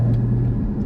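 A Porsche Cayman GT4 (981) engine delivers a quick throttle blip on an automatic rev-matching downshift, a short steady low rumble heard close from inside the car with no talk.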